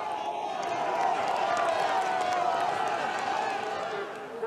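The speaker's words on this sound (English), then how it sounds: "The crowd are loving this." A large crowd at a cyclocross World Cup race in Koksijde, Belgium, cheers and roars in a steady, sustained swell while a commentator talks over it.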